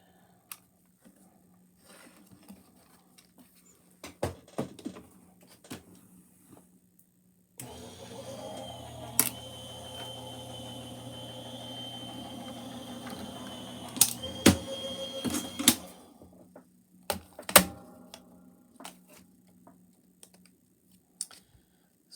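Anna Griffin dies being run through a die-cutting machine on a warped magnetic mat to cut card: a steady mechanical grinding roll lasting several seconds, framed by scattered clicks and handling knocks before and after, with no talking.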